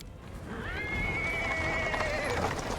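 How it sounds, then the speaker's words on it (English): A horse-drawn cart on paving stones in the video game Pathfinder: Wrath of the Righteous, with a horse giving a long, clear neigh that rises and holds, fairly loud and close over a background rumble. "He's interrupted by the sound of wheels rolling on the paving stones. A cart drawn by a sad little horse appears from around the corner."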